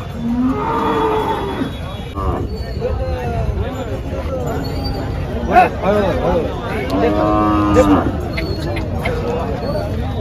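Several cattle moo loudly and repeatedly amid a busy crowd of voices and general market chatter.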